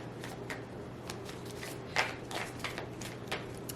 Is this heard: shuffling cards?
yes